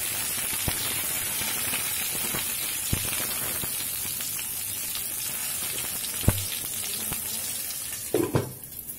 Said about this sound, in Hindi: तेल गर्म हो चुका है, अब हम ये पोरुअल डाल देंगे।